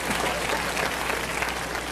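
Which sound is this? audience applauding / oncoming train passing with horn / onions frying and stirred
audience applauding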